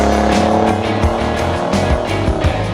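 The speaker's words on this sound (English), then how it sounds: "Time for a test drive." A Pontiac Fiero with a rebuilt four-speed manual shifter drives on a road test, its engine drone steady and close with gear-change surges and faint tire noise over about three seconds.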